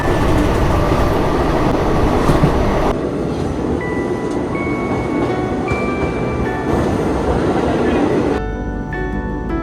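A train runs just past Gwalior railway station in India, a loud continuous rumble and rattle of rolling wagons heard from on board, with steady wheel noise throughout and some speech underneath.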